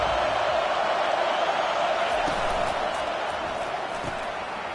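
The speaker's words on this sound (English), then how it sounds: "This crowd bringing the energy and noise early" A dense stadium crowd roars at a college football game between the Huskers and the Tigers, forming a broad, continuous wash of noise that holds loud and even throughout.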